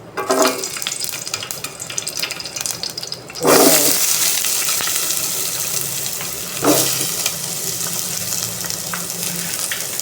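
Onions and garlic fry with mustard seeds in a pan, giving a close, steady sizzle that swells into louder hissing bursts twice as more ingredients go in or get stirred.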